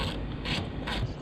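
A hand ratchet tightens bolts on a welded shifter bracket in a car workshop, its quick clicking bursts repeating three times close by with no talk.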